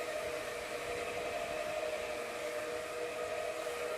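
A rotary bonnet carpet cleaning machine runs with a steady, loud motor whir and a constant tonal hum, unbroken and close.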